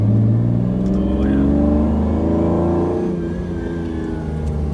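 A powerful supercar engine revs loudly up close, its deep growl climbing in pitch and then settling back to a rumbling idle.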